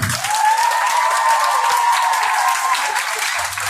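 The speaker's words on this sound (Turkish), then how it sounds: "Şöyle çiftimiz için bir alkış alabilir miyim?" Wedding guests applaud the couple in a steady, moderately loud burst of many hands clapping together, with a faint sustained tone beneath it, lasting a few seconds without pause.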